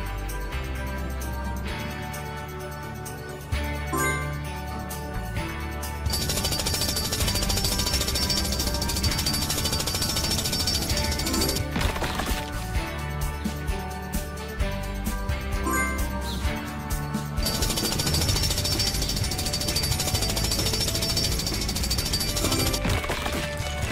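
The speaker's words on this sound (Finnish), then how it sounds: "Auta Rubblea raivaamaan tie porallaan." Rubble's drill breaking a boulder in the PAW Patrol video game: a loud, continuous jackhammer-like rattle that pounds on in long bursts with brief changes in tone, layered over cartoonish background music.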